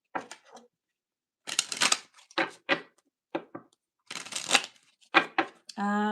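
Tarot cards are shuffled close up in bursts of quick riffling, several separate rounds with short pauses between them, ending with a steady tone at the very end.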